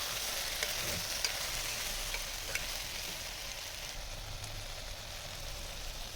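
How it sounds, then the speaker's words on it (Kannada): Soaked soya chunks fry in a little oil, giving a steady, dense sizzle with a faint crackle that runs the whole time, fairly close. No one speaks. "ಅದನ್ನು ಒಂದು ಸ್ವಲ್ಪ ಎಣ್ಣೆಯಲ್ಲಿ ಫ್ರೈ ಮಾಡಬೇಕು."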